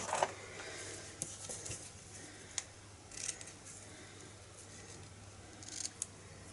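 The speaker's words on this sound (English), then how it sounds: "I'm just going to cut those ends." Scissors snip ribbon ends while making a vintage card, giving a few sharp, quiet clicks and crisp cuts spread over a hushed room, close to the listener, with no talking.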